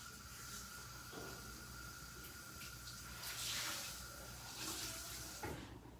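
Warm to hot water runs from a tap onto a towel being soaked, a steady near splash with swells in flow, no talking.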